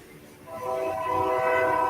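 A train passes with its horn sounding, a loud sustained multi-tone blast swelling in after a brief rumble, near and growing louder to the end.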